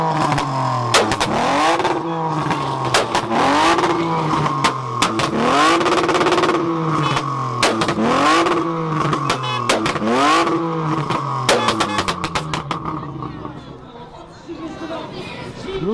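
BMW E36 engine revved hard by a Polish WOŚP motor event crowd, repeated rising and falling revs with sharp crackling exhaust pops and bangs, loud and close, with people chattering and shouting around it.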